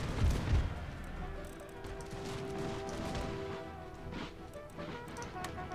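Musket volleys crackle and rattle in the Empire Total War video game as massed Russian line infantry fire during a battle, a dense, steady, moderately loud wash of distant gunfire with a sharp burst at the start.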